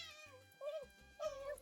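A voice imitates a cat meowing in a few drawn-out, pitched meows, close and fairly loud, separated by brief pauses.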